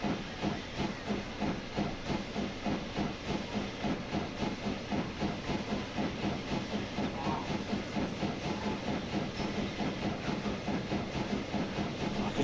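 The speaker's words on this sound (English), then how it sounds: "I could just sit and watch these trains all day long." Trains in the game Transport Fever 2 rumble past with a steady hissing, rhythmic clatter that holds at a loud, even level throughout, with no voice over it.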